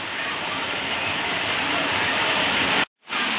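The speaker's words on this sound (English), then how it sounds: "And this is why we have waterfalls here at Ein Gedi." Waterfall at Ein Gedi near the Dead Sea, a steady loud roar of falling water throughout, cutting out briefly near the end.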